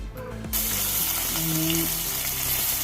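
Coconut oil heating in a kadai on a gas stove, breaking into a bright, steady sizzle after a quiet start, with faint clinks and low background sounds underneath.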